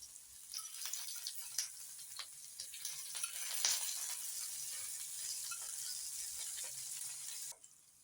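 Okra fries in oil in a pan, Malvani style, with a quiet, steady sizzle broken by faint scraping stirs, and no talk.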